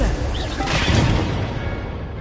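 A Confringo explosion spell going off in a Harry Potter video game, a single booming blast with a broad rushing burst that fades out over about a second.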